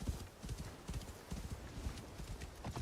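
Horse hooves clip-clop at a steady trot in the video game Assassin's Creed Shadows, set in snowy Japan, with rhythmic, fairly close thuds continuing throughout.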